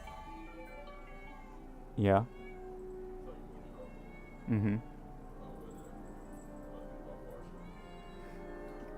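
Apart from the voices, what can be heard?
cat meowing excitedly at feeding time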